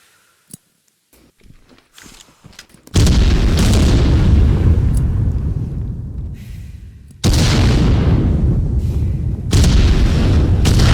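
Grenade explosions in the shooter game Contractors Showdown Exfil Zone, loud booming blasts that hit suddenly after quiet handling clicks, the second blast coming a few seconds after the first and each trailing off in a rumbling decay.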